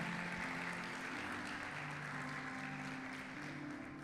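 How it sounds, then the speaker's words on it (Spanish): Church congregation applauding after a sermon passage, a soft, steady wash of clapping heard at a distance under sustained organ or keyboard tones. "Alguien que le dé un fuerte aplauso a la palabra del Señor."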